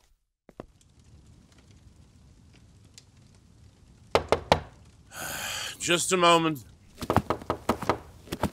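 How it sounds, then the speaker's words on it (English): Several firm knocks on a door come in quick bursts, first a faint couple, then a loud cluster, a pause filled by a voice, and another rapid series at the end. "Knock, knock, knock. Here's a knocking indeed."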